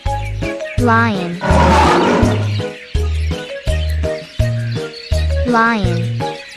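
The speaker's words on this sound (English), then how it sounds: "Lion." A cartoon lion in a toddlers' animal-sounds lesson lets out one loud, rough roar in the middle, framed by a steady, punchy repeating backing tune.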